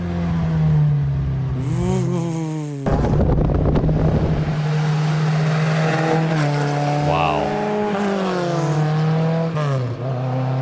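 A Škoda 200 RS rally car engine revving hard, rising and falling through the gears with a crackling burst in between; a voice briefly exclaims over it.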